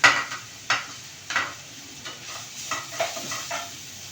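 Carrots going into a pan of ginger for stir-fried vegetables: soft sizzling with a few sharp clinks and scrapes of a spoon against the pan, close and moderate in volume, no talk.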